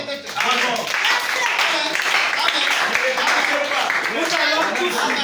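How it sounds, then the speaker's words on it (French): A church congregation at a sermon breaks into sustained, loud applause mixed with cheering voices, filling the room steadily for several seconds. "Frère, acclamons très fort"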